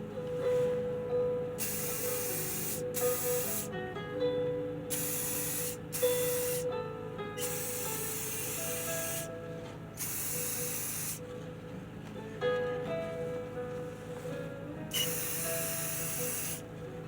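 Instant-drying spray paint hisses from an aerosol can in several long bursts separated by short pauses, close and steady, with no talking.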